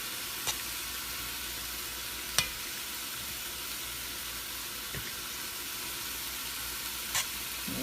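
Browned chicken thighs and vegetables sizzle in a pan with a steady, even frying hiss throughout. A few faint clinks and taps sound over it.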